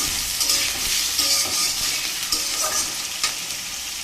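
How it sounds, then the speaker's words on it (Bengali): Panch phoron spices frying in overheated oil, a loud bright continuous sizzle with bursts of crackle and intermittent stirring scrapes, close up with no talk. "তেলটা বেশি গরম হয়ে গিয়েছিল, তাই আলাদা করে পাঁচফোড়নটা সময় নিয়ে ভাজতে হবে।"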